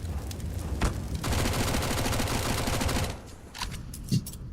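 Rapid automatic gunfire from a player unloading a full magazine in Counter-Strike during a professional ESL Pro League match, a dense continuous burst lasting about two seconds, then a few scattered shots and softer game sounds.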